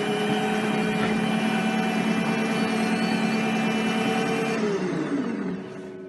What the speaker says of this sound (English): So that's the little dough ball machine that I was showing you earlier on.